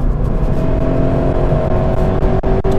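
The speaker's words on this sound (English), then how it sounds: "It's very easy to rev match. I just did it right there with no problem." A 2016 Subaru BRZ engine blips sharply during a rev-matched heel-and-toe downshift on a canyon road, loud and close from inside the car, a steady engine drone rising into quick revving surges near the end.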